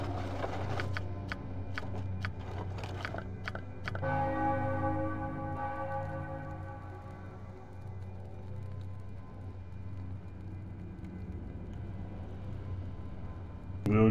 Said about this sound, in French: on sonne la cloche.